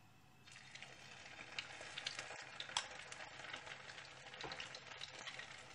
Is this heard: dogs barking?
no